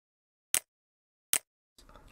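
Two short, crisp cookie-click pop sounds from a Cookie Clicker-style video game, about three-quarters of a second apart, bright and close, then a brief burst of soft noisy texture at the end.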